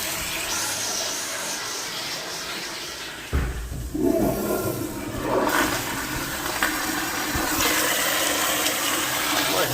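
A household toilet with some rust on its fittings is flushed, a loud rushing swirl of water that surges midway and then settles into a steady refill hiss, with no talking.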